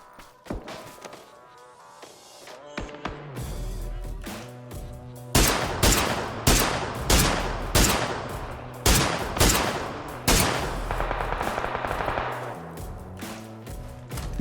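Bursts of automatic gunfire in PUBG, sparse single shots at first, then a dense run of loud, rapid cracks in quick succession with sharp attacks and short decays.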